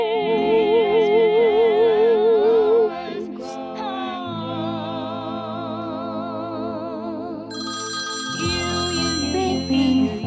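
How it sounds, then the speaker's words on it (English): A hotel room telephone ringing loudly and steadily with an electronic warbling tone, close by and alone for about ten seconds. "Is that my phone? There you No. are, Rod. Whose phone is it? Oh, it's the room phone."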